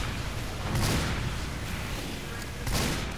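Sniper rifle shots in Team Fortress 2 boom out as two separate heavy reports, one early and one near the end, over a busy background of battle noise.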